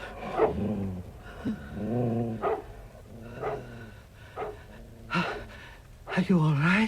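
A dog growls and snarls in an old-time radio mystery drama, close and loud, in short bursts woven between tense, breathless dialogue from several speakers.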